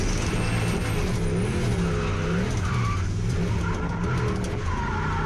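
A twin-turbo V8 Lexus LS400 race car engine roars continuously at close range during a drift day, its pitch rising and falling as tyres squeal through a long slide.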